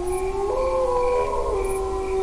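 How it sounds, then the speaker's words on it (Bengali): A mournful jackal howl for a horror cartoon rises and wavers in long, sustained tones that shift pitch and hold steady, sounding distant and eerie with no talking over it. "দূর থেকে করুণ সুরে শিয়ালের কান্নার আওয়াজ ভেসে আসলো।"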